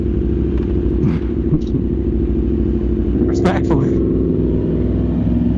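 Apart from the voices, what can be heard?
loud superbike engine running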